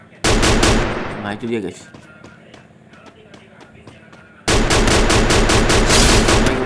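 Rapid automatic gunfire in the mobile shooter game Free Fire, two loud sustained bursts separated by a quieter stretch of footsteps and game sounds, with someone talking briefly in between.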